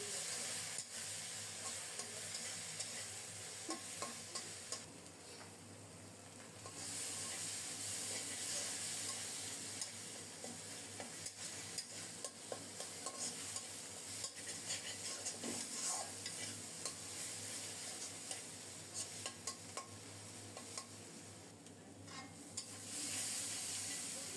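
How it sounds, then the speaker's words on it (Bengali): Tomato masala is stirred and fried in a pan, partly covered, producing a continuous loud sizzle and steamy hiss with scraping stirs and small clinks throughout. "ঢেকে ঢেকে নেড়ে চেড়ে মশলাটাকে খুব সুন্দর মতো কষাবো কষানোতেই যেন টমেটোগুলো সিদ্ধ হয়ে গলে যায়"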